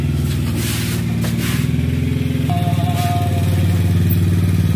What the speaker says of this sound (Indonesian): Naik motor dulu ke depan kita.